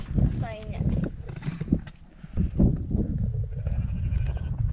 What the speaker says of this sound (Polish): A tam owce.